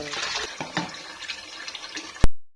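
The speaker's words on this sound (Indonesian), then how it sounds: "dengan air mengalir" Water splashes and runs steadily from a tap with irregular gurgles, then abruptly stops.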